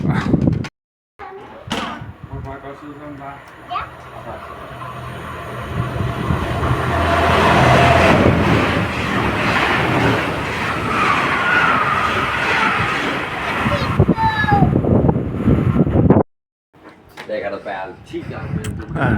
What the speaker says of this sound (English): I'm standing here at Sorø Station